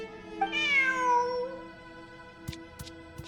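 A cat meows once, a clear rising-then-falling call inside the Genshin Impact video game, followed by a few soft taps amid steady background game music.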